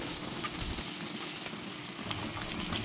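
Hilsa fish sizzles in mustard-poppy sauce in a pan with the oil separating, a dense, steady frying crackle close by, with faint stirring now and then.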